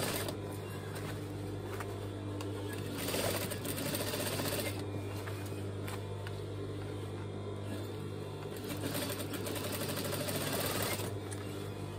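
Sewing machine running a stitch along a denim jean hem, a fast steady mechanical whirr close by, pausing briefly and restarting a couple of times.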